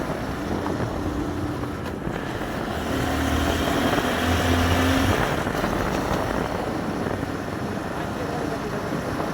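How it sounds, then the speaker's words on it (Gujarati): A five-gear vehicle's engine labouring steadily on a rough forest road, with a loud continuous drone and wind buffeting, the engine note rising briefly midway, heard from inside or on the vehicle. "ગાડીનો અવાજ જોવો કેવો આવે."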